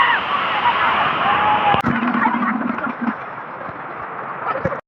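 Waterfall at Kodiveri, a loud steady rush of falling water close by, with a brief knock and faint talk or calls mixed in under the roar.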